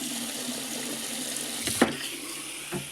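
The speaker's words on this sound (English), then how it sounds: "First, check if there is water coming in." Water rushes steadily into a washing machine through its inlet, a machine that had been failing to draw water and showing an IE error code. The hiss is constant and close, with a brief knock partway through.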